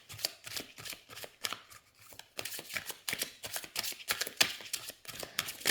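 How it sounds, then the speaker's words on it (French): An oracle card deck is shuffled and a card drawn, giving a quiet series of rapid papery flicks and riffles in irregular bursts, close by, with no talk. "Alors, hop, on va tirer donc une petite carte."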